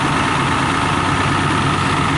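An old diesel engine idles cold, without coolant, at low speed: a steady, loud, close rumble with constant low vibration and no pauses.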